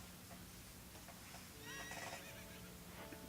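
A horse whinnies with a shrill, wavering neigh in The Legend of Zelda: Ocarina of Time, faint and distant over a steady low hum, with soft hoof sounds around it.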